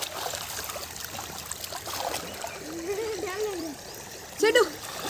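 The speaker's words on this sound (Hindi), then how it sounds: "छोटी नदी में ये लोग नहाते हुए" Children splash and play while bathing in a small river on a hot day, with irregular watery splatters and a louder burst of splashing near the end, under surrounding voices and a child's cry.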